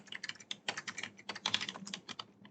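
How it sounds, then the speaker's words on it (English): Quick, irregular keystrokes on a computer keyboard while a database query is entered, close and crisp in short bursts with brief pauses, no voices. "Let me type this one in."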